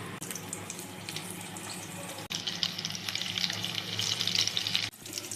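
Eggplant bonda fritters frying in hot oil, a steady close sizzle that swells louder and brighter midway, broken by two short gaps, with no voices.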